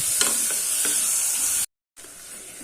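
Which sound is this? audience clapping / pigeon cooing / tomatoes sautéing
tomatoes sautéing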